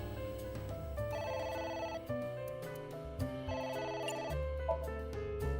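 In the video game AI: The Somnium Files, a telephone rings on and on in a repeating electronic melodic ringtone, steady and clear with no voices over it.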